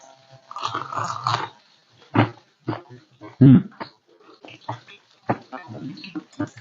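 Crisp bites into low-sodium fried chicken wings, a few sharp crunches and chewing up close, with speech-like voices around them.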